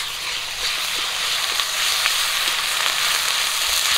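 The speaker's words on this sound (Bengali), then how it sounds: "কাঁচা লঙ্কা আর পেঁয়াজ একটু লাল করে ভেজে নিয়েছি, আদা বাটা আর রসুন বাটাটা দিয়ে দিচ্ছি" Ginger and garlic paste hits hot oil with fried green chillies and onion, producing a loud, continuous close-up sizzle with scattered small pops and no voices.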